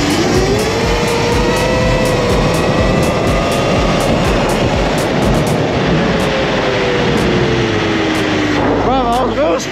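Sur-Ron Ultra Bee 80V electric motorbike accelerating at full throttle, a loud rising electric motor whine with rushing wind roar and a brief warbling whine at the end, riders talking over it.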